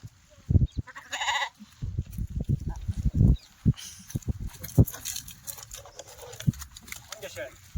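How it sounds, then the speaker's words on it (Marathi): Kathiawadi goats in a sale pen give a few short bleats among shuffling, hoof clatter and close, loud talking by people nearby. "पाहून घ्या शेळ्या."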